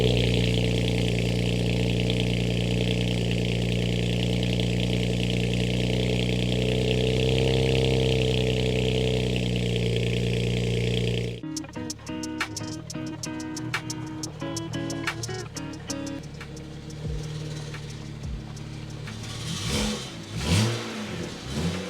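A BMW 335i with a newly fitted VRSF street exhaust idles with a steady low drone, then the sound turns choppy with sharp ticks and a rising rev swell near the end.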